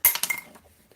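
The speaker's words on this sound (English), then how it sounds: "Then put my scissors away." A brief metallic clink and rattle as small metal tools are set down, followed by a faint settling sound, close and quick.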